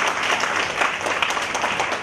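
A forum audience in Hualien claps warmly to welcome Professor Li. The dense applause holds steady and fairly loud throughout, with no speech on top.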